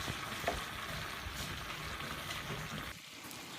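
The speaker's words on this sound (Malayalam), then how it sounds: "ചെറിയ ചെറിയ പക്കവടയായിട്ട് നമുക്കിത് പൊരിച്ചെടുക്കാം" Steady crackling sizzle of small leafy-green pakodas frying in hot oil, continuous and close, with a brief quieter dip near the end.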